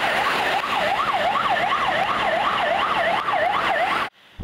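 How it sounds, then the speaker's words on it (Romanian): A wailing ambulance siren sweeps up and down continuously over steady, congested traffic noise, loud and close, cutting off abruptly near the end. "Printre mașini a încercat să-și facă loc și o ambulanță."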